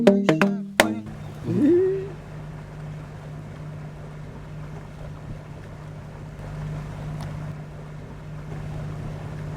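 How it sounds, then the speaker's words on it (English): A cruising boat's engine drones at a low, steady pitch as it motors through a narrow entrance into Mayalibit Bay, with wind rushing past the microphone and a few sharp knocks and a brief squeal at the start. "we have to motor about 4 or 5 miles through a pretty narrow entrance"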